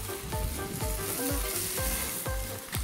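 Smokies sizzle in a pan, a constant crackling fry with soft repeated knocks from stirring or turning, heard close and without talk.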